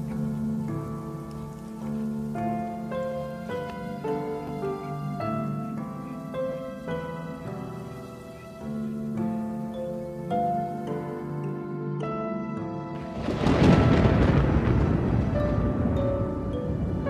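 A rainstorm with thunder breaks in suddenly near the end, a loud, dense rush of rain and rumble that swells after a long stretch of steady orchestral music.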